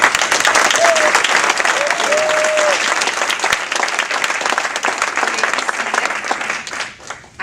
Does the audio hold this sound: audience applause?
yes